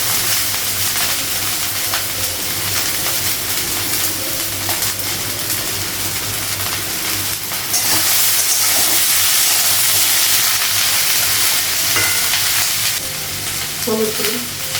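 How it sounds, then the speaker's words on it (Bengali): Okra and freshly added potato pieces fry in a pan, a steady close sizzle that swells into a louder, brighter hiss partway through, with a few small clinks near the end. "ঢ্যাঁড়সটা একটু ভাজা হয়ে গেছে, আলুটা লাগিয়েছি"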